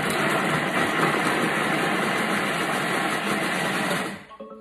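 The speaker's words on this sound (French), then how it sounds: "Et on va mixer 5 secondes, vitesse 5." A food processor runs steadily for about four seconds at a constant whirring pitch while mixing rice and tomato, then cuts off abruptly, leaving a brief quiet tail.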